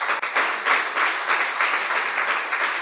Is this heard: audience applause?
yes